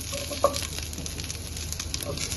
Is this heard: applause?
no